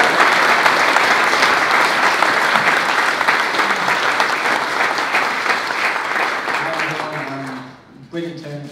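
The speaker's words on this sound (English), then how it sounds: "I'd like a big round of applause for former unified world champion Amir Khan" A crowd at a Liverpool boxing press conference applauds former unified world champion Amir Khan, loud dense clapping sustained for several seconds before fading, with a voice starting to speak at the close.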